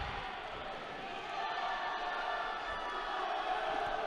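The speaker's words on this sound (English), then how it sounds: "And a big support here from the home crowd." Home crowd cheering and shouting in a judo championship arena in Sofia, a steady, broad roar sustained throughout and swelling slightly midway, with no clear speech on top.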